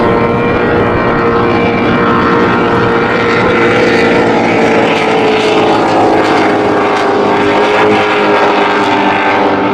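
A pair of 750-horsepower big-block offshore superboat racing engines scream continuously at full power on Lake Macquarie during an Australian championship race, a loud, dense, unbroken roar with a steady pitch.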